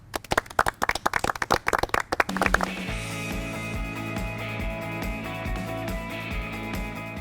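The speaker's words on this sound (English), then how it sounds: "Go ahead and give yourself a round of applause." At a show finale, a handful of people clap in sharp, distinct bursts for a couple of seconds, then the clapping gives way to sustained music.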